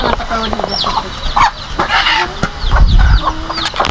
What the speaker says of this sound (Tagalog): Daming manok guys.